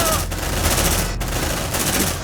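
Sustained squad gunfire from marines in the video game Aliens: Dark Descent, dense overlapping bursts rattling steadily and loudly for a couple of seconds with brief dips between volleys.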